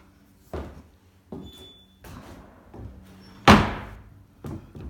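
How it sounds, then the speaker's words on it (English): A house's screen door banging shut several times, each a sharp close thump with a brief ringing tail, the loudest slam near the end followed by a small latch click, with no talking. "Nothing quite like the slam of a screen door, huh? And a little latch."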